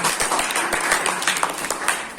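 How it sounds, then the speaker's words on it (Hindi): Audience applause welcoming a performer onto the stage at an Indian Independence Day celebration: a brief burst of many hands clapping, dense and close, with individual claps popping through the crowd sound. "तालियों से स्वागत कीजिए"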